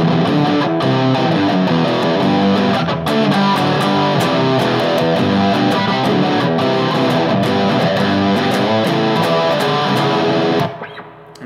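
Loud distorted electric guitar plays the verse of a song, a dense, continuous run of chugging chords and riffs that fades out at the end, with no talking.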